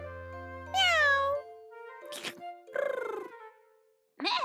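A person imitates a cat, giving several drawn-out, rising and falling meows separated by short pauses, loud and close, with no other talking, in a children's animal play.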